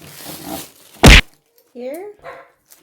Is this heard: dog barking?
yes